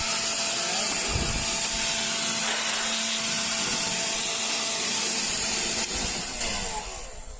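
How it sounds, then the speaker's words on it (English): A small blower runs steadily with a high whine, blowing out the air filter box of a 2017 Mercedes Sprinter van, loud and close for several seconds before tapering off at the end. "I got a little blower."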